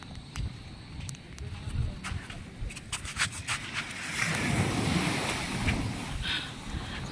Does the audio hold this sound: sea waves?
yes